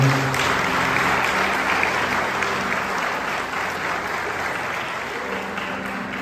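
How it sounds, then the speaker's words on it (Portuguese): A church congregation applauds during a worship service, a dense, sustained wash of clapping that slowly eases over several seconds, with a faint voice underneath. "aplaudendo o Senhor"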